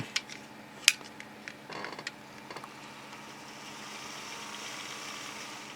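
A small Life-Like Proto 2000 model locomotive motor hums quietly and evenly after a few clicks and clacks, the soft whirring growing slightly steadier toward the end.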